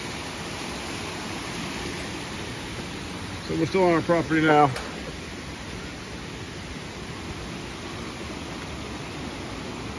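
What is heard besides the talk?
creek flowing water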